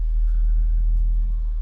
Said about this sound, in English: There are so many cars driving, most of them direction in city of Solothurn.